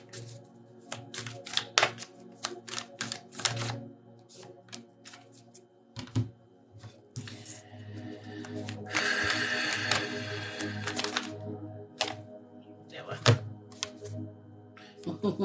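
Oracle cards being shuffled and pulled from a deck during a live spiritual reading, a steady run of crisp papery flicks and riffles with a denser burst of shuffling midway, close and moderately quiet.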